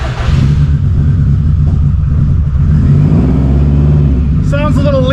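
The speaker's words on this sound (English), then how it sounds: "Sounds a little lean on cold start" A Subaru WRX engine running on E98 just after a cold start, a loud steady low rumble with slightly uneven idle pulses, close by, with a voice briefly talking over it near the end.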